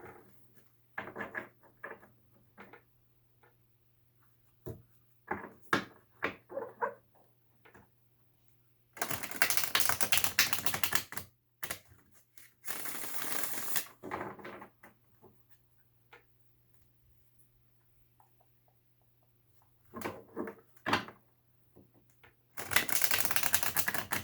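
A tarot card deck being shuffled in bursts, with loud riffling runs in the middle and at the end, and lighter taps and handling in between.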